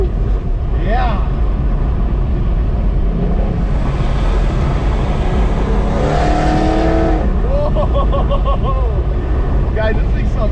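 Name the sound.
LSA Chevy SS accelerating with exhaust valves open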